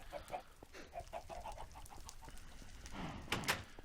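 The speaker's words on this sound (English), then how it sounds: "Hey, look at that, chickens." Minecraft chickens clucking in short repeated bursts, a run of quick clucks followed by a couple of louder, sharper calls near the end, close and clear with no talking.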